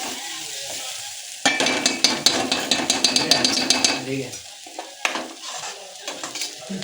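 Garlic tossed into a hot pan bursts into loud close sizzling with a rapid run of clattering stirring strikes, then settles into quieter frying with scattered scrapes, cooked outdoors among friends on a rainy outing in Khed, Konkan.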